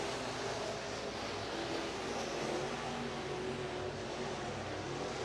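Sport Modified race cars roar around the Eagle Raceway dirt oval during a heat race, a dense, steady wash of engine noise from the pack, distant and blended, with no voices over it.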